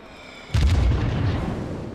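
Incoming battleship shell salvo from World of Warships, a sudden heavy boom from near silence followed by a long rumbling roar of overlapping impacts that slowly fades, loud and close.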